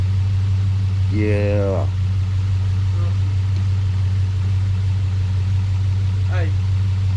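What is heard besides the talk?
third-gen Camaro engine cranking over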